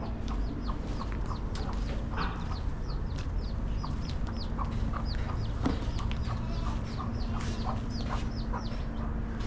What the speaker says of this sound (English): Look at the baby chicks.